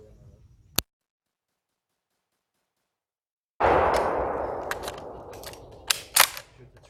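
A Century Arms C308 CETME rifle fed from HK G3 magazines fires outdoors: one sharp shot, a few seconds of silence, then another loud report with a decaying echo and scattered metallic clinks and clatter afterward.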